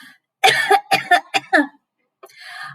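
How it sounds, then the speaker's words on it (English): A quick run of four or five dry coughs close up, then a brief pause and a soft breathy sound. "I cough."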